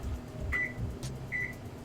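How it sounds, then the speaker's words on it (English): A kitchen oven is switched on to a low temperature, giving two short electronic beeps about a second apart over quiet room hum. "I turn the oven on here to low temp"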